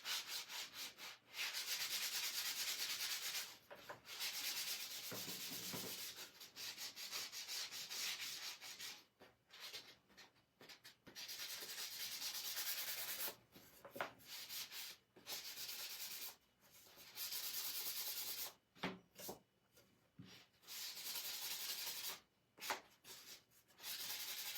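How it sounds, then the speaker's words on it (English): Sandpaper rubs in repeated strokes over a painted wooden cutout, with soft, close scratching that comes in uneven bursts and short pauses. "Now I'm going to sand it."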